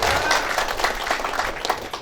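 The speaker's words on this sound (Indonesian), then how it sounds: "Tepuk tangan untuk beliau." Audience clapping at a Golkar party regional meeting in Hulu Sungai Utara, a steady wash of many hands lasting the full moment, with scattered voices mixed in.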